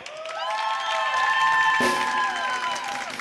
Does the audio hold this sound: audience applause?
yes